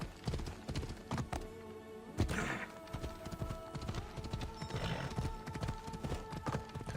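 Rapid, steady clip-clop of horse hooves pounds along at a gallop in the video game Assassin's Creed Odyssey, with a brief whinny partway through.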